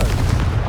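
The Confringo blasting spell explodes in Hogwarts Legacy, a loud, deep booming burst with heavy low rumble filling the whole short moment.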